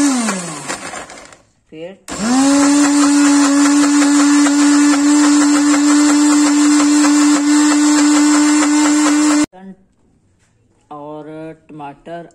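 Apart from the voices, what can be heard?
mixer grinder grinding tomato, ginger and chillies for green chutney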